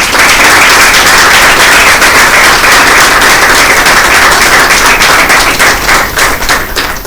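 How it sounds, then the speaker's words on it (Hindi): A large audience at a Christmas Bible quiz event breaks into loud, thick applause that stays strong throughout and thins into scattered claps at the close. "हम सब मिलकर एक दूसरे के लिए ज़ोरदार तालियां बजाएं।"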